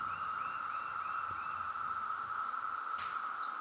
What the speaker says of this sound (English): Those cicadas are so loud.